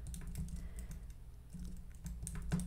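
Keystrokes on a computer keyboard while typing into a Microsoft Word document, a steady close patter of light clicks alone with no voices.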